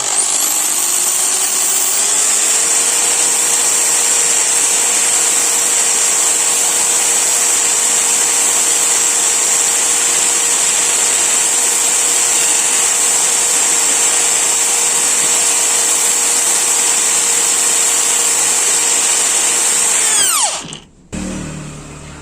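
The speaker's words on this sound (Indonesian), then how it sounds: "Kita masukkan ke bor ya, istilahnya ini kayak disekur ya." A power drill sanding a surface smooth whines continuously at high speed for about twenty seconds, a loud steady grinding drone that winds down abruptly at the end.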